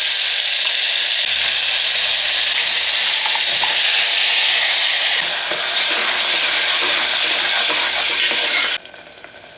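Spice paste sizzles loudly in hot oil with whole spices: cinnamon, clove, stone flower and bay leaf. The frying hiss is steady and close, then it drops off abruptly near the end.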